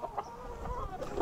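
Chickens in a coop cluck close by in short, irregular bursts over a low background hum.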